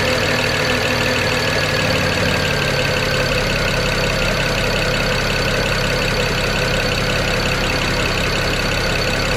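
A BMW 335i engine fitted with cheap aftermarket ignition coils idles through its cold-start warm-up, a loud, steady, close hum with a smooth even drone that holds constant throughout.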